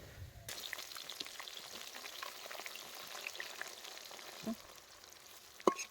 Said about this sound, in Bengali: পেঁয়াজগুলো হালকা লাল লাল করে ভেজে নেব